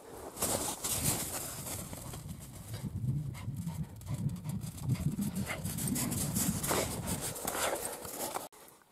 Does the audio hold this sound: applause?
no